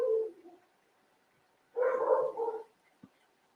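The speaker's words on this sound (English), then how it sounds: "sorry about the dogs barking." Dogs bark in two short bursts, a brief one at the start and a fuller cluster a moment later, moderately distant and somewhat muffled, with no talking over them.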